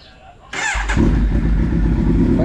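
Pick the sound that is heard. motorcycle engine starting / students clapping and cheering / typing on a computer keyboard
motorcycle engine starting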